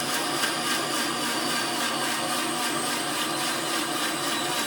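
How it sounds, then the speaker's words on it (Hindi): A kitchen mixer grinder blending banana and milk into a shake whirs steadily and loudly throughout, a continuous high-pitched blending drone with no pauses. "केला गया, दूध गया, और फिर मिक्सी चलेगी। आवाज़ देखना, सुनना।"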